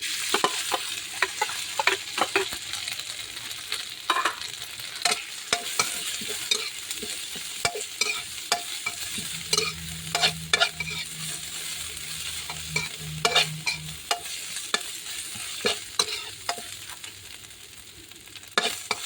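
Thai curry paste stir-frying in vegetable oil for a pork stir-fry with pickled bamboo shoots, a close continuous sizzle broken by frequent sharp spatula scrapes and clacks against the pan, with a faint low hum midway.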